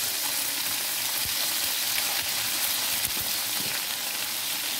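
Chicken fries in a pan with a tablespoon each of vinegar and soy sauce over a low to medium flame, giving a steady, loud, continuous sizzle with no talking.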